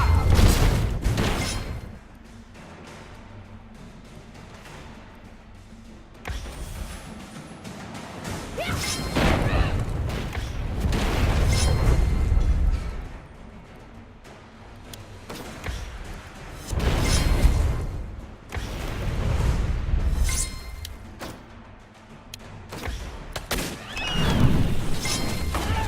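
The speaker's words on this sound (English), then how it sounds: "Mortars, fire!" Mortar fire and explosions in the game Champions of Anteria, a series of heavy booming crashes with swelling rumbling bursts that come every few seconds over a low background, loud and repeated.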